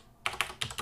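Keys on a computer keyboard clack as code is typed, a quick burst of four or five close, crisp keystrokes after a brief moment of quiet.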